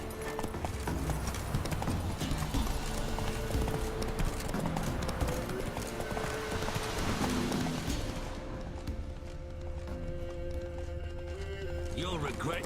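A horse gallops in the video game The Witcher 3, fast loud hoofbeats dense under game noise and talk, then dropping back to quieter ambience with a whinny near the end.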